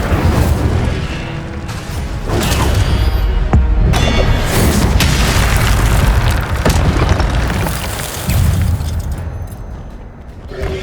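Incendio fire spells cast again and again in Hogwarts Legacy, a continuous run of loud booming blasts and crackling bursts layered over game sound, with no gaps of quiet.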